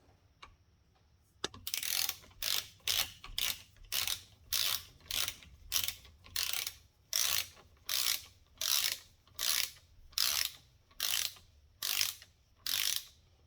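A socket wrench ratchets on the top end bolts of a jet ski engine during a rebuild: about fourteen evenly spaced, sharp clicking bursts in a steady rhythm, close and clear with no talk.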